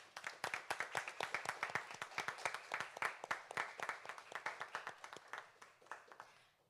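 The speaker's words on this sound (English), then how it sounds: "We'd like to give all members of the Legislative Youth Advisory Council a round of applause." Applause from an audience at a youth advisory council pinning ceremony, a brisk round of individual claps from a modest crowd, close and distinct, fading out at the end.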